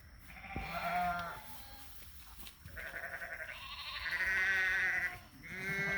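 Ewes and their lambs bleat in a spring pasture, with several loud, drawn-out overlapping calls of different pitches following one another close by and no talking.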